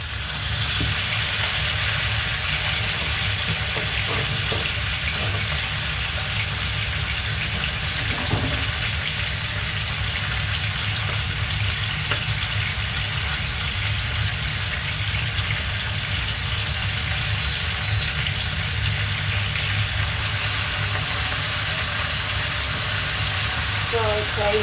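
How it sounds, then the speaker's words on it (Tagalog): Fish frying in hot oil with ginger in a Hong Kong kitchen, a steady loud sizzle and crackle that runs unbroken throughout, with faint clinks of stirring now and then. "naglalagay sila ng luya pag nagpiprito ka ng isda"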